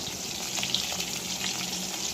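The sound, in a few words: fish frying in a pan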